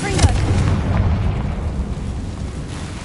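Confringo fire spell explosion in the Hogwarts Legacy video game, a loud booming blast with a sharp onset followed by a sustained rumbling, crackling roar.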